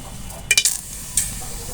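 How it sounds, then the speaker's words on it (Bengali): Cardamom, cinnamon and bay leaf in hot oil in a home kitchen: a quick pair of close clinks and a soft sizzle, then one more brief clink over a low steady hiss. "তেল গরম হয়ে গেছে আমি দিয়ে দিছি একটা এলাচ দারচিনি তেজপাতা"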